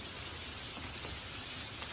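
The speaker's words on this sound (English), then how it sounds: "Soon dark clouds rolled into the sky, and then it started to rain." Steady rain falls in an animated short, a constant soft hiss of drops close by with no talk over it.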